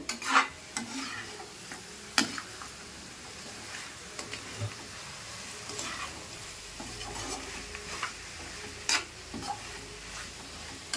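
Mutton curry with salt, spices and chili being stirred in a pan, a soft continuous sizzle broken by sharp scraping clicks of a spoon against the pan at irregular intervals.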